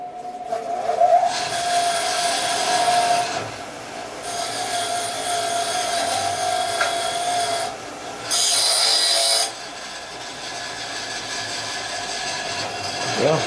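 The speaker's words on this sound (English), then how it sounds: "Let's put this on the bench grinder real quick and see what we get." A bench grinder works a rusty piece of brass or copper, a loud, harsh whine with a steady tone that swells in long grinding passes, the workpiece pressed against the wheel in bursts separated by quieter spin-down.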